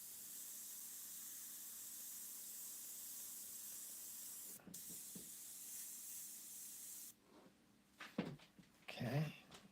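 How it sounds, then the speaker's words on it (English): Airbrush spraying paint for a macro-style cat's eye and fur painting: a steady, close, airy hiss runs continuously, briefly interrupted once, then stops, leaving faint handling noises and a short bit of quiet talk. "let's just back the airbrush away a little bit and kind of dust it in a little here and there."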